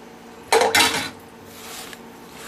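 A spoon stirs stock into seitan dough in a bowl, giving two short bursts of scraping clatter, then near quiet and a final brief knock.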